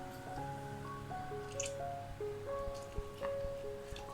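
Half a lemon squeezed by hand into an Afghani chicken curry marinade gives soft, wet squishing and dripping sounds, faint beneath steady background music.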